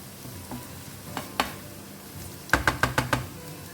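A spoon stirs a softened tomato mixture in a pan for Goan-style stuffed squid, giving a few faint scrapes early on and then a quick run of five sharp clinks and scrapes, with a low sizzle underneath and no voices.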